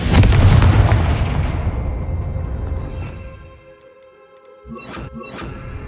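Confringo fire spell cast in Hogwarts Legacy on PS5, a loud booming blast at the start that rolls off and fades over a few seconds, then a second, smaller burst of crackling impacts near the end.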